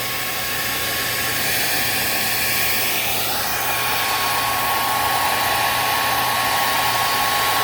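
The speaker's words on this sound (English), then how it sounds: "And it's a hair dryer, not a heat gun." A hair dryer roars steadily for the whole stretch, blowing heat onto a cloudy 2003 Honda Civic headlight from a short distance, a loud broadband whoosh with a faint hum and no talking.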